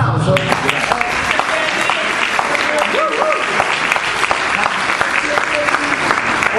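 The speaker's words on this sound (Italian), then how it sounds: "Facciamo l'applauso." Crowd at an athletics club celebration applauding an honoured former athlete, sustained dense clapping throughout with faint voices and whoops mixed in.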